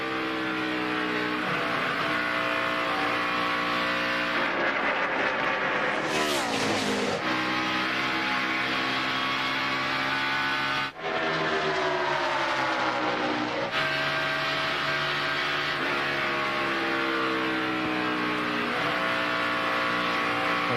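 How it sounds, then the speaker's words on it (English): NASCAR Winston Cup stock cars racing at Atlanta Motor Speedway in the 2001 NAPA 500, a loud, continuous roar of several engines with shifting harmonic whines as the pack passes, swelling and dipping. "Bobby Labonte trying it on the bottom. Can't quite get alongside"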